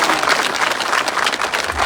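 A crowd at a village gathering gives loud, dense applause, steady and close throughout the short stretch.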